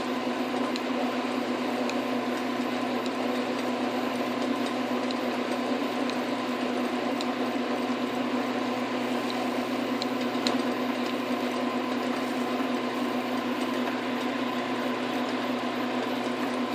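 A lathe turns and cuts small oil-lite bushings dry, giving a steady, close machine hum with a constant tone and a faint scraping texture of cutting throughout.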